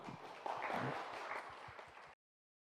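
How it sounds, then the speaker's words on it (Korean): An audience at a tourism startup IR pitching demo day claps for a presenting team, a brief burst of many hands, fairly faint and distant, that fades and then cuts off. "여러분 큰 박수 부탁드릴게요."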